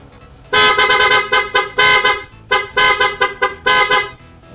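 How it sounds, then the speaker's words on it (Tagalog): A loud PIAA horn fitted to a Suzuki Address scooter honks in a rhythmic series of short and longer blasts, close by, with an engine idling underneath. "Okay, Piaa horn yun."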